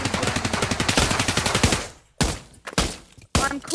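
Rapid gunfire in the VR shooter Pavlov, a fast string of loud automatic shots followed by a few separate heavy bangs with short gaps between them, close and dominant.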